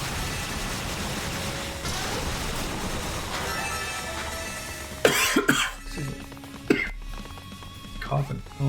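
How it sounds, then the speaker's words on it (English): Someone coughs several times in quick, uneven bursts near the microphone during a play session of the PC game Ys Origin, with low background game sound before the coughs. "Coughing."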